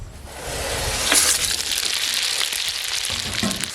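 Whole spices sizzling loudly in hot oil for tempering, a dense continuous hiss and crackle that swells in the first second and stays steady throughout, with no talk.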